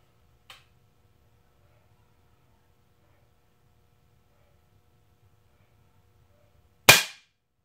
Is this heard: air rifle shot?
yes